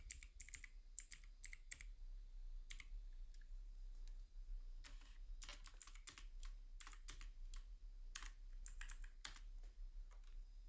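Fingers type a variable name on a computer keyboard, quick irregular clusters of close, crisp key clicks with short pauses between words over a faint low hum.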